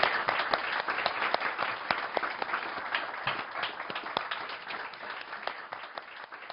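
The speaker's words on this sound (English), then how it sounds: "if we can just have a round of applause in the meantime" Sustained audience applause at the close of a televised interview with the Dalai Lama, steady dense clapping from many hands throughout, fairly distant and even in level.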